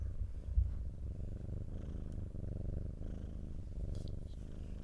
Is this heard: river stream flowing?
no